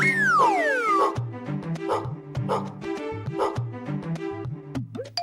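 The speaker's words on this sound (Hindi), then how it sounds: "अरे बाप रे, कुत्ता कुत्ता!" A dog barks repeatedly in a quick irregular series of sharp close barks, with a whistle-like tone sliding down at the start.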